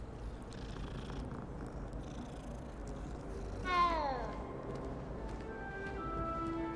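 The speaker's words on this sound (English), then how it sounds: "That's right, pet the kitty." Soft, low purring comes from a petted cat in the game Hogwarts Legacy. The purr is quiet and continuous, and a brief meow sounds midway over faint background ambience.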